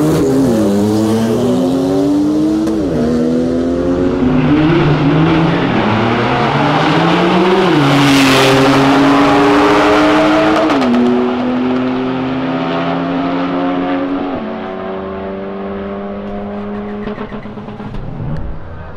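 A 750-horsepower Porsche accelerates hard at full throttle, its engine note climbing sharply through several gear shifts, loud and close, before easing off toward the end.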